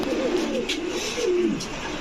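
Pigeons of fancy breeds coo softly and close by in a loft, a few rolling throaty calls over a steady background hum.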